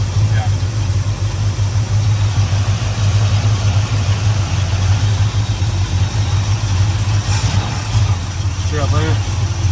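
An old truck engine runs with its choke locked up, a loud, steady low rumbling idle that holds close and continuous throughout. Someone speaks briefly over it.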